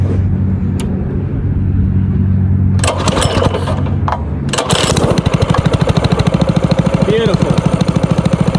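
A 212 engine minibike cranks over, catches and settles into a loud, steady, rapidly pulsing idle close to the microphone.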